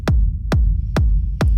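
Basic-level techno rumble bass between kick drums: four heavy, evenly spaced kicks, each sweeping down into a sustained low, droning rumble that fills the gaps, loud and synthetic.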